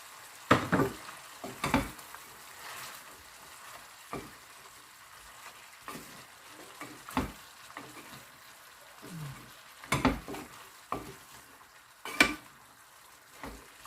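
String beans tossed into pork sizzling in a pan for adobong sitaw, with a steady frying hiss and repeated sharp clacks of a utensil scraping and stirring against the pan, close and fairly loud.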